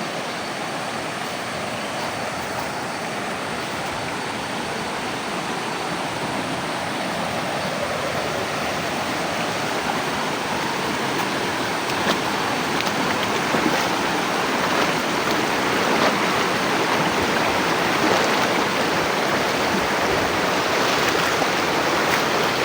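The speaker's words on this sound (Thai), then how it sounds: "ฟังเสียงธรรมชาติไปนำกันทุกคน" A stream called Huai Nam Sang flows steadily in a natural forest setting, giving a continuous, broad rushing wash of water that stays close and fairly loud throughout, with no voices.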